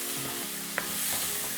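Lamb pieces sizzling steadily in a hot, lightly smoking pan with salt added, a single sharp clack of a utensil against the pan partway through, close and continuous with no voices.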